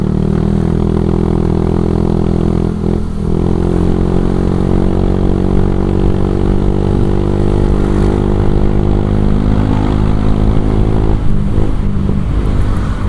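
Motorcycle fitted with a ZRC racing exhaust, stock-shaped but with a racier tone, idling and being gently revved while warming up; a steady, loud, close engine drone with harmonic rumble throughout and no talk.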